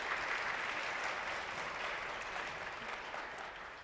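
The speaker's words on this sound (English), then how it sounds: "Can we all please give the speakers a big round of applause?" An audience at a tech conference panel applauds the speakers in a steady, full wash of clapping that stays even throughout and slowly fades toward the end, heard at a moderate distance.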